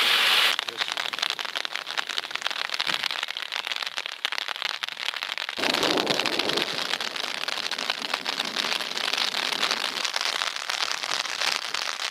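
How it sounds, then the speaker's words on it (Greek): Heavy rain pours steadily for the whole stretch on a mountain trail up to wind turbines at Kimmeria, a dense, loud, unbroken hiss with crackling drops. "Τελικά η έντονη βροχή μας βρήκε στη μέση της διαδρομής."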